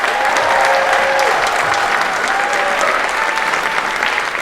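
A variety show audience gives a loud, sustained round of applause: dense, even clapping close and full throughout, with a few faint whistles or cheers riding on top.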